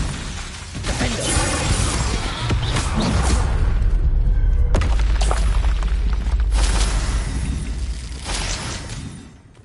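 Spell explosions from Bombarda and Confringo in the Hogwarts Legacy game on PS5, a continuous loud roar of booming blasts and shattering bursts with whooshes, no talk.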